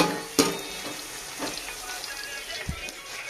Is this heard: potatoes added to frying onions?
yes